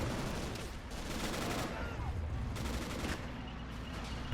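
Gunfire in a Stalingrad battle from a realism mod of a war video game: dense, continuous overlapping shots and rattling bursts forming a steady wall of combat noise, fairly distant.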